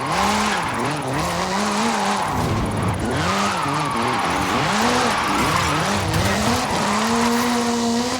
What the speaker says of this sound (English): This is Mr. Kenneth Block's Hoonigan Gymkhana 10 Ford Focus RS RX. 2-litre, turbocharged, front-mounted engine and all-wheel drive.